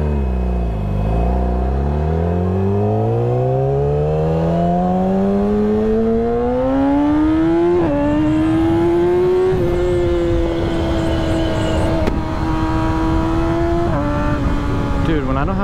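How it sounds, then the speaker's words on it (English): A loud RC4 motorcycle engine roars while being ridden, rising steadily in pitch through the gears with a shift around the midpoint, under heavy wind rush, with a rider talking. "when I don't have my visor down, this bike is so loud, dude. It sounds so insane."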